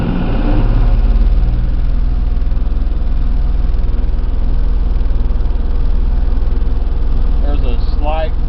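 Bush Hog 3008 mower driven by a running engine as it comes up to speed, a loud, steady, deep drone that holds throughout with a faint rising whine near the end.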